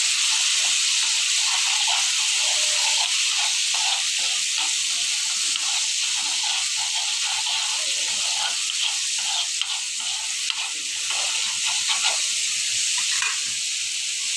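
Dried fish added to a hot pan gives a loud, continuous hissing sizzle with small crackles and pops scattered throughout, steady and close.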